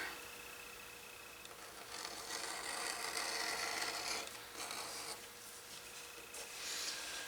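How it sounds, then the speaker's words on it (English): A number 0 edge beveler shaving along the edge of a leather bi-fold wallet, a soft scraping rasp in a few close strokes with brief pauses between them. "I'm just going to take a number 0 beveler."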